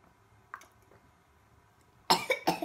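A young child's sneezes during a birthday meal at home, a quiet stretch followed by two or three sharp, close bursts in quick succession near the end.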